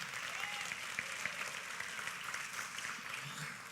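A church congregation clapping together at a worship service, a dense continuous wash of many hands, heard faint and distant throughout.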